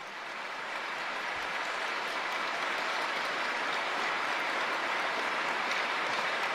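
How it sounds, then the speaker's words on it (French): Ceremony audience applauding the True Parents at the Cheon Il sanctuary entrance event at Cheon Won Gung, a dense, steady wash of many hands clapping that swells slightly and holds at full strength throughout. "Je vais vous demander une fois de plus d'applaudir très fort les vrais parents."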